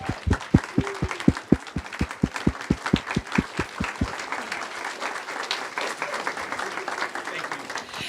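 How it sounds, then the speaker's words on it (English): Standing audience applause at a fundraising bootcamp, loud and close, with a burst of sharp rhythmic claps at first that settles into a steady wash of many hands clapping. "Please stand and let's applaud our guests."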